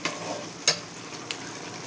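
Upma is being stirred in a pan on the stove, giving a soft, faint sizzle with a few sharp scrapes and knocks of the spoon against the pan.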